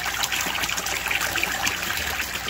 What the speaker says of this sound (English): The max flow right there for the siphon.